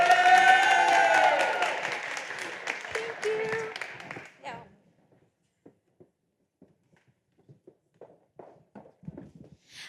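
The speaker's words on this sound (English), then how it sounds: "give a warm round of applause for our next speaker" An audience applauds to welcome the next speaker at a talk, with clapping and a voice over it at first, then the applause fades out, leaving sparse footsteps and small knocks in a quiet room.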